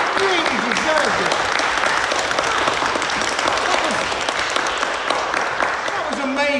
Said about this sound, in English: Give them a round of applause at home.